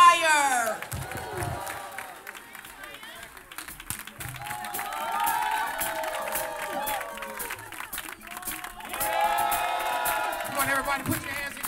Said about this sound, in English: Please clap your hands and receive the Upper Room Sanctuary Choir.